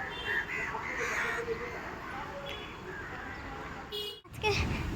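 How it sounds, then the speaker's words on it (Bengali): Crows caw repeatedly outdoors in the open air, their harsh calls mixed with steady background noise and faint voices. "ওই দেখো কাকগুলো কাকা করছে"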